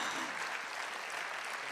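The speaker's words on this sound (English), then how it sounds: "can we put a huge round of applause together for everyone?" Conference audience at ZeroCon17 applauding award recipients, a dense, continuous roar of clapping that fills the room at steady loudness, with no one speaking over it.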